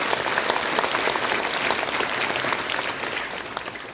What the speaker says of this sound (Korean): 환영의 박수를 한번 해주시겠습니다.